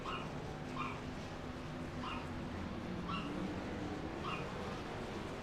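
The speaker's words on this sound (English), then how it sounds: "my barking Yorkie doesn't" A Yorkie barks in short, evenly spaced yaps, five or so over a few seconds, fairly faint beneath a steady broadband hum.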